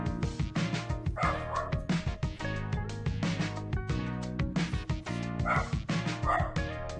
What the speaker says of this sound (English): Is that me? Is that my dog?